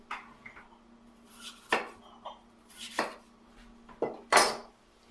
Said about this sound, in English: get me one of those ramekins so I can show you all what I mean